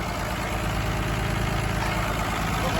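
A farm tractor engine idles with a steady, loud, low chugging rhythm, close by, with no voices.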